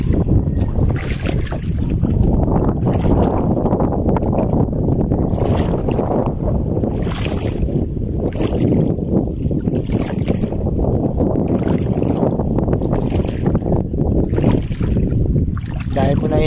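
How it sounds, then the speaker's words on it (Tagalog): Strong wind buffets the microphone in a steady, loud roar over open water, with a boat's motion and splashing underneath. "Lakas po talaga ng hangin eh."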